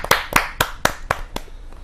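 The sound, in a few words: audience applause welcoming a poet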